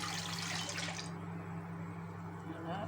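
Water and milk poured into a cooking pot for mashed potatoes, a brief splashing pour that stops after about a second, leaving a low steady kitchen hum with a voice talking.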